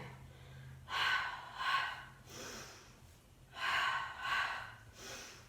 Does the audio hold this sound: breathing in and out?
yes